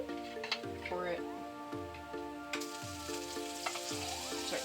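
Butter sizzling and crackling in a hot pan, with a steady frying hiss and repeated metallic ticking over a low background hum.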